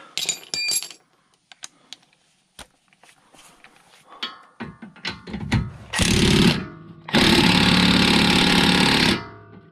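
An impact wrench breaks loose a very tight, overtorqued bolt on damaged car suspension, beginning with scattered metallic clinks and taps and then giving two loud sustained rattling bursts of hammering, close by.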